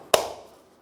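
A Toyota Tundra wheel center cap is snapped into place with a single sharp, close plastic snap that fades quickly into silence.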